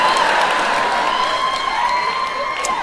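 A theater audience at a live comedy special cheers and applauds in a steady, dense roar that keeps going for the whole stretch, with scattered whoops rising above the clapping.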